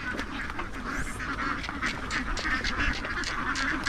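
Ducks quack in a constant noisy chorus out in muddy flooded rice fields, many birds calling over one another at close to middle distance.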